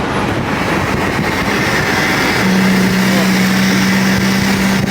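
Loud, rough engine drone of a small three-wheeler car driving, with a steady low hum joining partway through; no talking.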